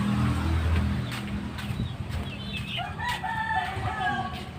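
A rooster crows once partway through, somewhat distant, over a noisy outdoor background with a low rumble.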